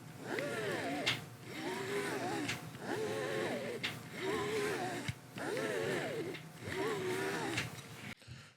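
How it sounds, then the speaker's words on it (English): A Mitakon 80mm f/1.6 lens breathes out a wheezing, airy hiss as it is focused in and out, rising and falling in five or six long, even strokes, close and steady. "So when you focus this thing in and out, you can hear it kind of like wheezing."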